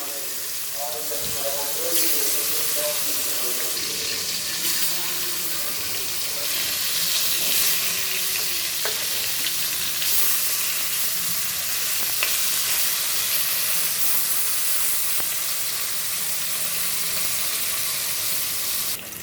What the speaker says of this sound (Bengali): দেখো মাছগুলো ভাজা হয়ে গেছে তুলে নিব